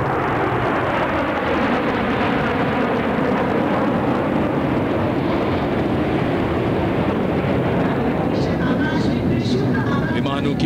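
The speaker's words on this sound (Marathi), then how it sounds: "विमानों की गरज से आकाश और पृथ्वी गूंजते हुए" Indian Air Force fighter planes roar overhead in a Republic Day flypast over New Delhi, a loud, steady, broadband jet rumble that fills the whole clip with wind buffeting.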